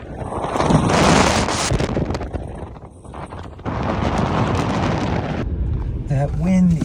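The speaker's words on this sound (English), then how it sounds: "That wind is freaking ridiculous." Strong wind outside a van on a cold 38-degree day, roaring and buffeting loudly and close to the microphone in long gusts, with a brief dip midway before surging again.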